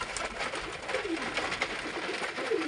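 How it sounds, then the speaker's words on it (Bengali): Colored pigeons coo softly and continuously at close range while being fed grain, with the low, rolling calls overlapping one another. "আগে কালার পায়রাগুলোকে একটু আগে খাইয়ে নিই, কেন যেহেতু এগুলো উড়ে"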